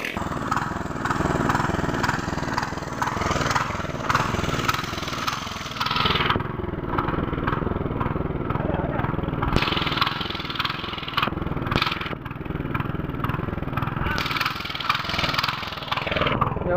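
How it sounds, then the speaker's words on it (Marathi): A tractor engine runs steadily in a field, a continuous mid-pitched chugging drone close by that rises and dips slightly as it works. "आवाज बघ कसलो येता ट्रॅक्टर"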